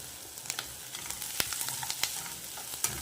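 Onions sautéing in a pan for a rustic Maharashtrian dal and dried bajra dish, a steady close sizzle with scattered soft crackles and a few sharper pops, no voices.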